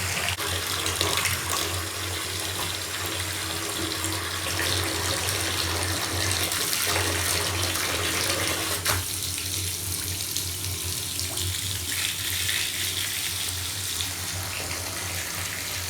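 Rushing floodwater in a toy train story scene, a loud continuous gush like a torrent from a tap, steady and close with no pauses, its texture shifting slightly partway through.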